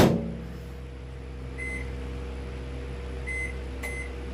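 A microwave oven hums steadily with a low electrical drone, and a few short, thin beeps sound over it near the end.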